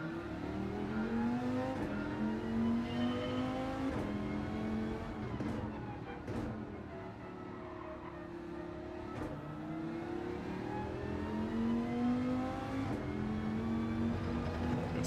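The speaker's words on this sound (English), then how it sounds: "Let's see where this car revs to." An American muscle car engine in Gran Turismo 7 revs up and down in repeated rising and falling sweeps, a steady droning roar at moderate level with a voice talking faintly underneath.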